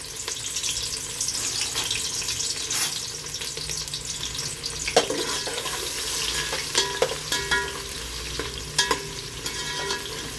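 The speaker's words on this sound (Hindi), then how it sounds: "चलिए इसमें हम अब प्याज डालेंगे, प्याज को हमें ब्राउन करना है।" Two medium onions, thinly sliced, fry in hot oil in a pan with a continuous loud sizzle, broken by occasional scraping and clacks of a stirring spoon, with no one speaking.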